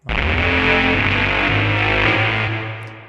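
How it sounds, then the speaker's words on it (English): A deep, sustained synth pad drones at steady volume for a few seconds with a rich low end, then fades out near the end. "now I've got this sort of bassy version of the same patch"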